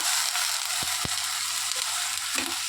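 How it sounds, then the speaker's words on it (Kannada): Washed Sona Masoori rice fries in ghee in a pan, giving a steady, close sizzle with a couple of sharp pops and light scraping stirs. "ಸೋನಾ ಮಸೂರಿ ಅಕ್ಕಿಯನ್ನು ಹಾಕಿ ಹೀಗೆ ಚೆನ್ನಾಗಿ ಫ್ರೈ ಮಾಡಬೇಕು"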